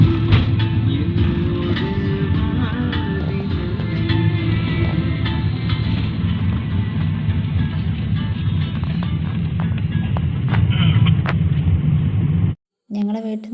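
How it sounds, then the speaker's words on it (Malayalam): A car driving along a road in heavy rain, with steady low engine and road rumble and rain noise filling the cabin almost throughout before cutting out near the end. "അപ്പോൾ ഞങ്ങൾ വണ്ടിയിലിങ്ങനെ പോയിക്കൊണ്ടിരിക്കുകയാണ്."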